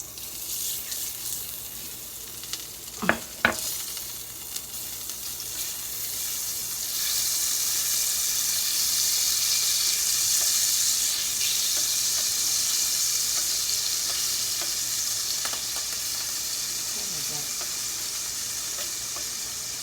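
Butter melting in a hot pan for shrimp macaroni gives a steady hissing sizzle that grows louder after a few seconds, close by, with a couple of sharp clicks early on and no talk.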